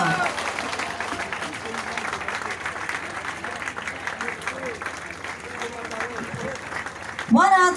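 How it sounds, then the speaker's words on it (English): A crowd applauds a race winner at the prize distribution for a Rotary rain run, with steady clapping running under loud amplified talk and a brief burst of louder voice at the end. "Give him a big round of applause"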